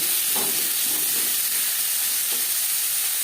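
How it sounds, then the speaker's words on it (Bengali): Chopped onions and tomatoes frying in a little oil with cumin, a steady broadband sizzle and hiss throughout, with a few soft stirring bumps near the start and middle, fairly close. "15-20 সেকেন্ড জিরে ভেজে নেওয়ার পর দিয়ে দেবো পেঁয়াজ কুচি, টমেটো"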